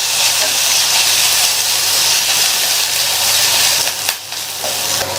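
Onions with ginger-garlic paste sautéing in a pan for a Tamil idli kuruma side dish: a steady, loud hiss and sizzle that runs throughout with a brief dip near the end, no talk over it.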